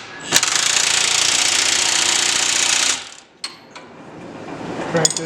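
A power impact tool rattles for about two and a half seconds as it tightens the track bar bolts on a 2018 Ford F250, loud and close, followed by a few short metallic clanks.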